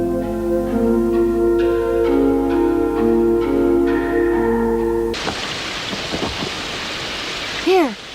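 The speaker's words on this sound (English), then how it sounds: "this rainstorm was very sudden" A sudden rainstorm breaks out in a cartoon scene, with a broad wash of heavy rain rushing in after a stretch of music and continuing steadily to the end.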